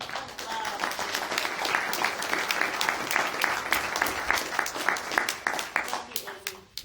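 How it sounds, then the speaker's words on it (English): An audience at a landfill candidate forum claps steadily as a speaker walks up, dense overlapping hand claps sustained throughout at moderate loudness, with a few sharper individual claps standing out near the end. "I would like for us to clap as she's walking up here"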